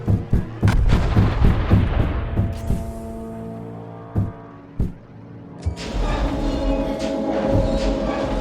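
Rapid bursts of gunfire and heavy booms in a video game set around rooftops and turrets, loud and close, with sharp repeated shots followed by a rolling explosion-like rumble.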